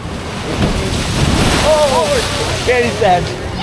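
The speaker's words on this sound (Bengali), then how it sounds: "মানে সমুদ্রের গর্জন কত সুন্দর লাগে" Sea waves roar loudly at Ao Nang beach in Thailand under heavy wind buffeting the microphone. Faint voices are heard in the mix.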